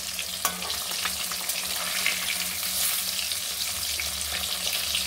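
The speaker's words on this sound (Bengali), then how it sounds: "এক এক করে মাছগুলো আমি সব ভেজে নেব। এখানে মাছগুলো হালকা করে ভাজবো আমি।" Hilsa fish pieces fry lightly in hot oil with a steady, dense sizzle and a few sharp spatters and scrapes, close by and continuous throughout, with no voices.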